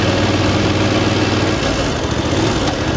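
Voge DSX 900 motorcycle engine running while the bike turns around at low speed: a loud, steady throbbing engine drone with rough low rumble, heard close throughout with wind noise.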